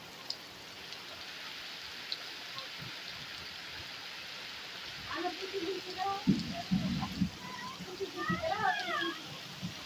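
Heavy rain pours during a storm, a steady wash of water with rushing runoff that swells louder in the second half, with voices and scattered knocks heard intermittently beneath it.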